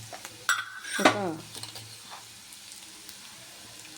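Bottle gourd curry in a pan gets a couple of sharp clattering stirs up close, then settles into a faint, steady sizzle, with one brief spoken word.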